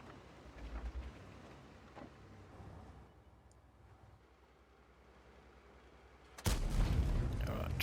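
Tank cannon firing in World of Tanks with a Kunze Panzer, a single loud, sudden boom near the end after a quieter stretch of engine rumble and faint background sounds.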